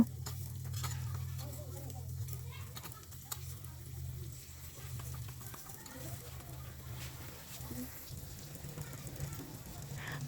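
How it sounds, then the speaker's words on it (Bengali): Chopped onion, garlic, turmeric, chilli and cumin powder with salt being stirred in a pot, giving soft scraping and a faint sizzle, close but quiet, with a low steady hum beneath and some brief talk. "সব কিছু একসাথে দিয়ে এখন আমি এগুলোকে ভালোভাবে কষিয়ে নিব"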